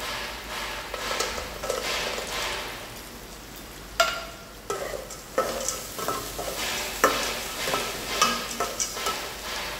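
Roasted peanuts are stirred into frying potatoes for Nagpur tarri poha, with a soft steady sizzle under repeated scraping and clattering stirs of a utensil against the pan, close up.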